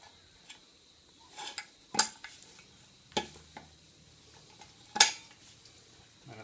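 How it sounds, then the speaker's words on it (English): Metal tool clinks as a ball joint remover is fitted onto a Subaru control arm ball joint, with a few sharp metallic taps and knocks spaced apart over quiet background, close by and without talk. "Then we put our ball joint remover on."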